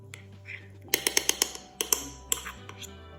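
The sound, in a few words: stirring overnight oats with strawberries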